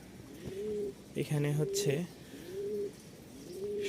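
Rajshahi Giribaz pigeons packed in delivery cartons coo repeatedly in soft, rhythmic low calls, close by, with someone briefly speaking over them midway.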